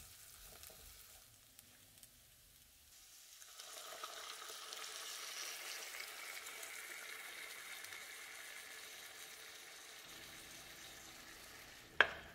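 Salsa poured into a pan of sautéed onions brings on a soft, steady sizzle that swells after a quiet start and carries on faintly, ending with a sharp clink of utensil against pan.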